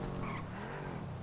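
A car engine runs steadily in a GTA police roleplay game, a continuous dense drone with tire skid and squeal layered in, loud and unbroken across the whole moment.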